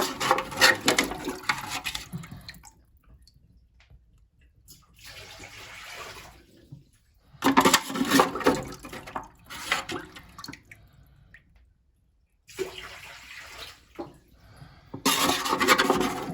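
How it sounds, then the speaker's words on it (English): Toilet flushed repeatedly to drain the tank before a fill valve replacement, several separate bursts of rushing, gurgling water with quiet gaps between them, close by. "Let's get as much of this water out as we can."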